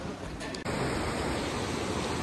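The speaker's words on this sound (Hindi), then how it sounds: "ये देखो दोस्तों झरने का कितना बढ़िया खूबसूरत जो है पानी, एकदम साफ साफ क्रिस्टल क्लियर ऊपर से वो बह रहा है झरना" Clear water pours down Tiger Fall in Chakrata, a steady, loud, broadband rush close by that fills the whole scene without any break.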